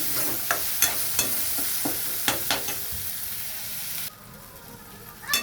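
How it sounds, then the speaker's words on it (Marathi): Tomatoes cook in masala in a pan, frying with a steady sizzle and several sharp clinks of a spoon stirring against the pan, quieter toward the end. "मस्त टमाटरला आता बारीक होईपर्यंत शिजवून घेऊया"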